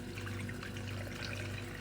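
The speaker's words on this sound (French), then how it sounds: "Je vais venir verser l'eau." Water poured into a jar of vegetables for lacto-fermentation, a brief steady close pour with a low liquid rush, no talking.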